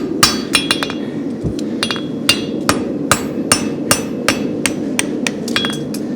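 Hammer forging the heel of a spavin horseshoe: loud, ringing metallic strikes at a steady, fairly quick rhythm, about fifteen blows over an even background hum.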